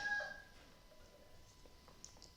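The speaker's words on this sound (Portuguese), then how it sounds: "Olha o nosso galo" A rooster crowing at a distance: the end of a faint, drawn-out crow fades out at the start, followed by quiet with a few soft, scattered sounds and no talk.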